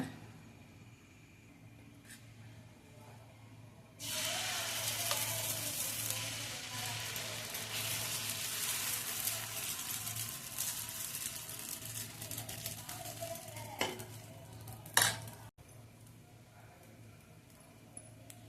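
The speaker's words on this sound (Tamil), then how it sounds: "தோசைக்கல் காஞ்சிருந்தோம் நம்ம வந்து தோசை சுட்டுக்கலாங்க" Lentil dosa batter cooking on a hot griddle, a steady close sizzle that starts suddenly and runs for several seconds before fading, ending with a sharp clatter and a quieter tail.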